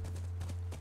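Horse hooves clip-clopping in The Last of Us, a steady quick run of close hoofbeats over a constant low engine-like hum, with no talk.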